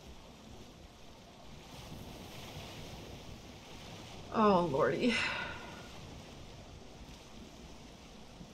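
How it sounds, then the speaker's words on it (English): Rough ocean waves wash steadily in the Valheim video game, a low, constant surf and wind rush running throughout, briefly interrupted by a short spoken exclamation partway through. "I don't like these waves right now."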